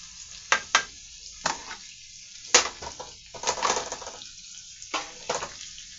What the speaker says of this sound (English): I just like to move my butter around a little bit.